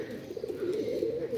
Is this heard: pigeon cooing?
yes